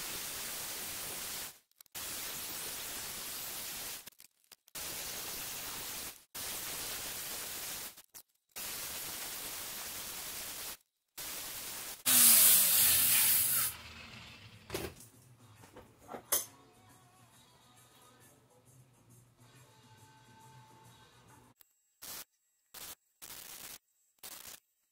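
Thick steel U-channel being cut to a short length for a go-kart frame nose: a run of harsh, hissing bursts in a steady rhythm, then a louder scream and scattered clanks and rattles as the cut finishes, close and loud with no talk.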